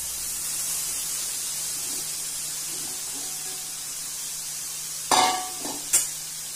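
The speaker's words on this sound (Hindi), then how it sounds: "கொஞ்சம் லைட்டா ஃப்ரை பண்ணிக்கிடுங்க அந்த நெய்லே பாருங்க நெய்ல லைட்டா வசக்கிடணும்" Carrot fries lightly in ghee for halwa, a soft steady sizzle with a few sharp scraping stirs near the end.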